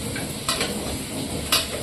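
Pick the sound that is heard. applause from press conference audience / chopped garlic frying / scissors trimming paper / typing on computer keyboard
chopped garlic frying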